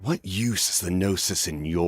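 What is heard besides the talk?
No everyday noise stands out behind the speech.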